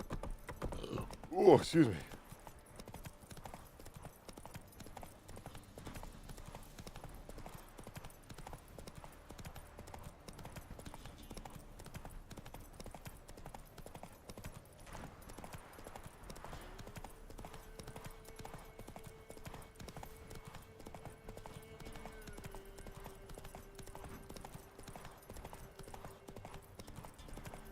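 Geralt's horse Roach runs in The Witcher 3, its game hoofbeats making a faint, steady clip-clop across the whole stretch after a brief loud burst at the start, with a short spoken remark early on.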